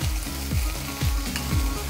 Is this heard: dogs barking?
no